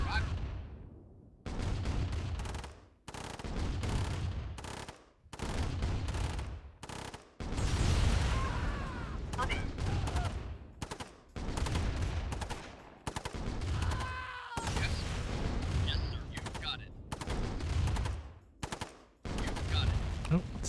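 Gunfire in the real-time strategy game Command & Conquer Remastered: dense repeated bursts of shots and volleys keep going across the scene, with short gaps between clusters and a speaking voice over parts of it.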